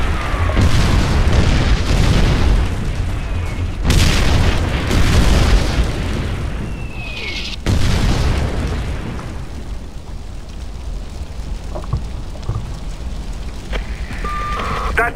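Heavy booming explosions from the Far Cry 4 video game as an artillery piece is destroyed, several loud blasts with rumbling debris and a fresh burst midway, then a lingering low roar with faint beeps near the end.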